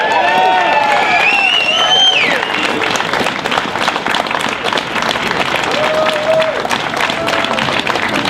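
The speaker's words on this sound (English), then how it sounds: "Ladies and gentlemen, big round of applause for" Loud audience applause and cheering greets an attorney at a Second Amendment event, with a crowd roar of clapping, whoops and whistles, and voices in the mix.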